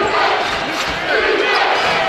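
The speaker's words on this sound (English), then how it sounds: "Crowd chanting defense" A basketball game crowd chants in unison, a broad, loud roar of many voices filling the arena with a rhythmic surge and no single voice standing out.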